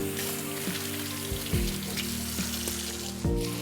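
Ribeye steak searing in a hot pan gives a steady, close, loud sizzle and crackle with a few soft clicks and pops, and no one speaks.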